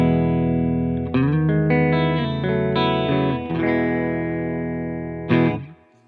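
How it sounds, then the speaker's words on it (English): Clean electric guitar with the overdrive pedal switched off, run through a reverb pedal for light ambience: a few strummed chords and picked notes ringing out, ending with a final chord that decays into a soft reverb tail. "So here's what my guitar sounds like with the pedal off."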